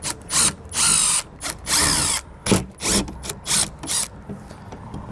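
A power drill backs out the mounting screws of an electronic lock panel on a 2021 Palomino camper trailer: loud, close bursts of whirring with ratcheting pauses between them, repeated several times, with no talk.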